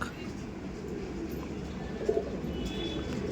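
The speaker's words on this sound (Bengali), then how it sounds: "এটা কিন্তু অন্ধ্র পায়রা।" Andhra pigeons cooing softly in low, rolling calls under a continuous murmur of talk and background noise, fairly close.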